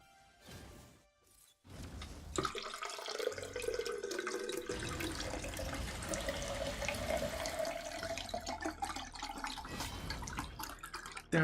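Water pouring in a video game, a steady gushing, tap-like stream that starts after a few brief clicks and keeps running loudly to the end, rising slightly in pitch as it goes.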